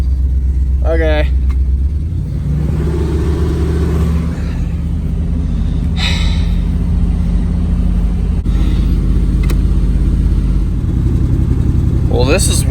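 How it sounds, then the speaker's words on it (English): A 1990 Buick LeSabre Estate idles high after a cold start, its steady low engine drone running throughout, with voices talking over it. "It's idling very high."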